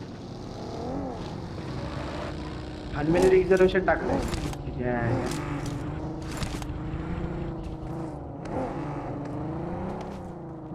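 A vehicle engine drones and whirs while driving on the Erangel map of PUBG, heard low and steady under continuous talking by several players.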